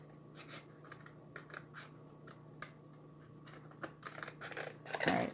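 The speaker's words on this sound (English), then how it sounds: "hopefully these scissors will work" Scissors snipping as someone freehand cuts a Chalk Couture transfer for a Dollar Tree wooden decor sign, quiet close clicks in irregular bursts, busier toward the end.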